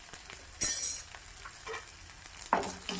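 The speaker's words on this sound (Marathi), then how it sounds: "2 मिनिट हे तेलावरती परतून घ्यायचे।" Turmeric and asafoetida fry in hot oil for a spinach dish, giving a soft sizzle with a few stirring scrapes and light clinks of a spoon against the pan, faint and close.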